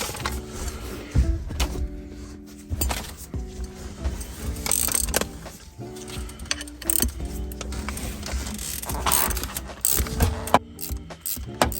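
A 17mm wrench threading a shifter bolt back in on a 1994 Ford F-150, repeated close metallic ratchet clicks and clanks in short irregular bursts.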